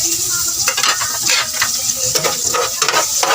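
Garlic and onion sautéing over medium heat, a loud close sizzle and crackle with intermittent stirring scrapes against the pan, steady throughout, no voices.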